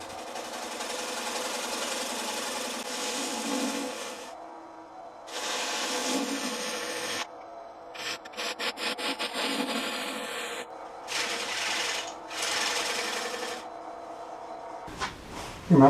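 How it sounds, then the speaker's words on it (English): A 1/2-inch square end scraper cuts wood on a spinning lathe while turning a lazy susan, a continuous close scraping hum broken by pauses and short rapid bursts of contact, with no speech. "I try a 1/2-inch square end scraper."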